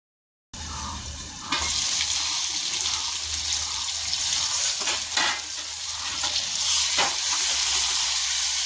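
Chicken pieces and potatoes frying in a pan make a steady, loud sizzle that runs without a break, with occasional louder bursts as the pieces are stirred and turned. No one speaks.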